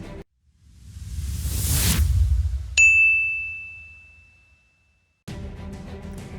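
A notification bell sound effect: a rising whoosh swells into a single bright ding that rings clearly and decays slowly over a few seconds, alone without talk.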